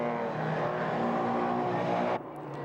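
Racing trucks round a corner at Mosport, a loud sustained engine drone with a steady pitched note that drops away suddenly near the end, leaving a quieter rumble.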